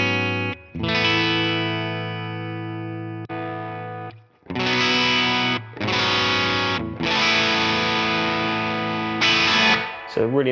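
Electric guitar through a Mesa Boogie Fillmore 50 amp on its clean channel rings out in loud, sustained chords, several held long and separated by brief gaps, played alone without talk.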